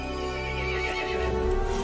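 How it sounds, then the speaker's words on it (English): A loud, close horse neigh rings out with a sustained whinny in Resident Evil Village, with faint hoof clip-clop beneath, heard alone without speech. "The horse grew angry and summoned the other monsters."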